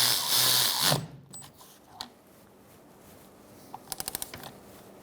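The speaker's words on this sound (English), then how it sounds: "I'm going to tighten down this bolt with a 16 millimeter." A 16 mm wrench snugs down a bolt while a rear parking brake cable is replaced on a 2007–2012 Nissan Altima. A short burst of rapid, crisp metallic clicks comes near the end, after a louder rustle at the start and quiet shop ambience.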